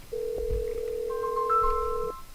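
A 3CX business phone system places an outgoing call, giving one long steady ringback tone joined by a higher pair of tones partway through, clean and close with no talking.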